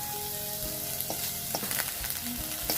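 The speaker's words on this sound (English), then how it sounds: "When the onions turn golden brown, I'm just adding ginger garlic paste." Ginger garlic paste sizzles and fries in a pan with golden brown onions, a steady close crackling hiss with small pops and occasional stirring scrapes, no voices.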